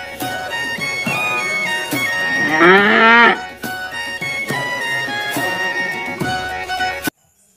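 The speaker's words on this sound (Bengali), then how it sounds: "গরু বাছুর দাঁড়িয়ে আছে।" A cow moos loudly in one long drawn-out call amid a busy musical backing, with a sharp cutoff at the end.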